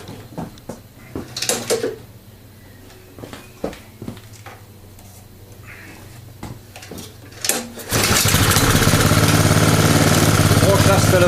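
Engine fitted with an HHO dry cell, second version, fires up and settles into a loud, steady idle after several seconds of quiet clicks and handling noises.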